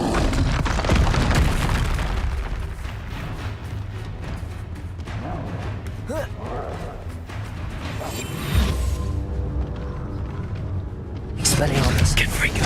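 Booming spell blasts with whooshing bursts in Hogwarts Legacy, fought inside Feldcroft Catacomb, rumbling heavily and continuously with a sharp swell near the end, while a voice speaks throughout.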